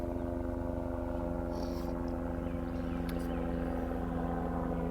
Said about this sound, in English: Excuse the helicopter that's flying over